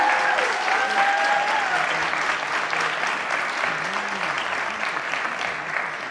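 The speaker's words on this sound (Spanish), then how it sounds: "Aplausos, por favor." Sustained, even applause from an audience at a telenovela cast presentation, holding steady throughout, with faint voices mixed into the clapping.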